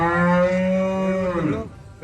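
A calf moos once in a long, drawn-out bellow lasting well over a second, loud and close, fading at the end, with no talk over it.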